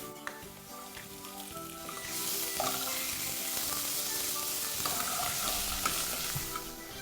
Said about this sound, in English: Now our onions are ready. I'm going to add the ginger and garlic paste.